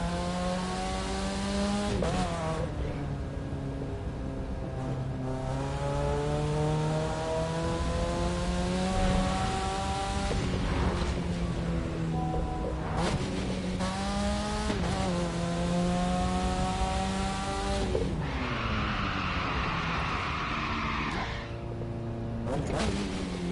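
Car engine revving while driving, pitch climbing through each gear then dropping at every shift, repeated several times with a brief tire squeal, steady and close.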